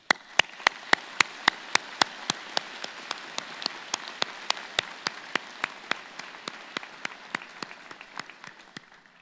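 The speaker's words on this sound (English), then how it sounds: "round of applause." Convocation audience applauds graduates at a university ceremony; a soft wash of clapping runs throughout, punctuated by crisp, evenly spaced individual claps that stand out close by.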